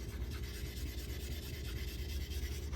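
A JA Henckels straight razor is honed on a convex Coticule stone with diluted slurry, giving a continuous close, even scraping rub from steady back-and-forth strokes.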